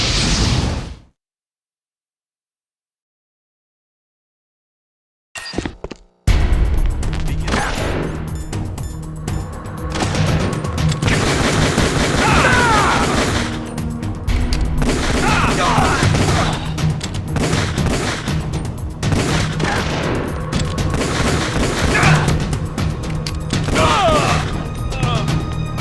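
Gunfire in Metal Gear Solid: The Twin Snakes, with a short burst, a few seconds of silence, then a long, loud stretch of continuous automatic fire, explosions and crashes mixed with game sound effects.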